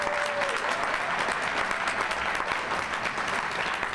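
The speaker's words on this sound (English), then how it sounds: "can we give him another round of applause?" At a senior volunteer recognition gala, the audience gives sustained, loud applause, a thick continuous roar of many hands clapping at once with no pause across the whole stretch.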